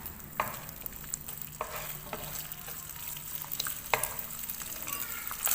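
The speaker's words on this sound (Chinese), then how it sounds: "将鸡蛋煎散" Beaten eggs fry in hot oil in a wok with a steady crackling sizzle, punctuated by occasional sharper pops and scraping stirs; no voices.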